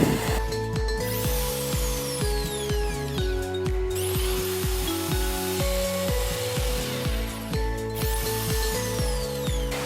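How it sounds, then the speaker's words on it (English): A corded electric drill grinds into wood up close outdoors, its motor revving in uneven pulses with gritty scraping through the bursts. "I've got a plug-in drill which I really forgot we had"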